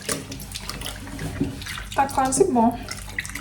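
Water runs from a tap into a sink while washing, a close rushing and splashing stream that swells near the end, with a person briefly speaking over it.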